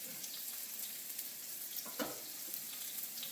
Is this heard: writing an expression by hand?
no